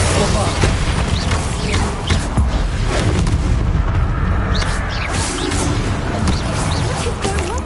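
Repeated loud magical fire-blast explosions from Confringo spells in the video game Hogwarts Legacy, booming bursts one after another over a dense, continuous battle din, with a voice speaking now and then.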